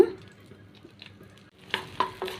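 Green chillies fry with peanuts in a pan, a quiet sizzle under soft stirring scrapes that grows louder toward the end with a few sharper spatters.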